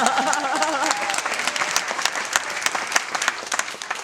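A room full of friends at a celebration bursts into close, dense applause, with cheering voices over the clapping throughout.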